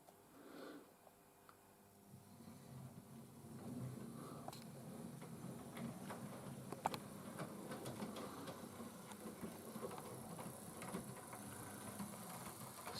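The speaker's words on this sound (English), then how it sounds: "let's see how well this bigger locomotive can get on with them" A Hornby Coronation Class model locomotive runs on second-radius track with points, giving a steady low mechanical hum and whir with faint clicks that rise after the first few seconds and hold at a moderate level.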